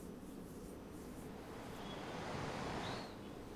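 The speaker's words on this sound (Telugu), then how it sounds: "ప్రస్తుతం ఇంకా భారీ వర్షం కురుస్తూనే ఉంది" Heavy rain in Hyderabad makes a continuous, even hiss that swells slightly midway, faint and distant-sounding, with no voices over it.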